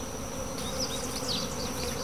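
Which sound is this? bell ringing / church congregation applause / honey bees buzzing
honey bees buzzing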